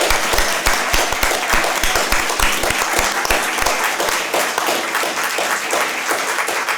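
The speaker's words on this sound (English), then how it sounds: "Shall we give her a round of applause for everything she's done?" An audience at a talk on quarry minerals and fossils gives a round of applause, steady dense clapping close and loud throughout, no voices over it.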